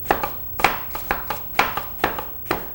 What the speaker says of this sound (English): Slice it into thin strips that way.